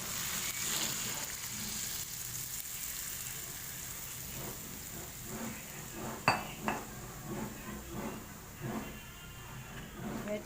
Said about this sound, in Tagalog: Now cooking chicken adobo.